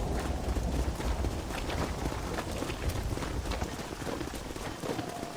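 Horse hooves galloping during a cattle drive in Red Dead Redemption, a fast steady clatter of hoofbeats mixed with rain-like rustle and outdoor ambience, continuous and fairly close.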